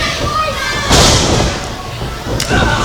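A wrestler lands a leg drop in the ring at a live independent wrestling show, one heavy thud on the canvas followed by a second impact, with crowd noise and commentary around it.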